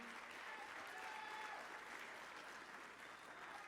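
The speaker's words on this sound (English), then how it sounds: "Give them a round of applause, ladies and gentlemen." Audience applause greets a team of celebrity players at a SMITE launch tournament showmatch, a dense, steady wash of clapping that holds at full strength throughout.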